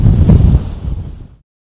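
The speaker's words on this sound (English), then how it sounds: "Having to hang on to the tripod with two hands sometimes, it's so windy." Heavy wind buffeting a microphone on the south coast of Victoria and New South Wales, Australia, a loud low rumbling roar that eases off and then cuts out.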